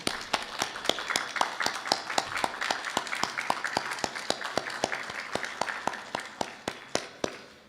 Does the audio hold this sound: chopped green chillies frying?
no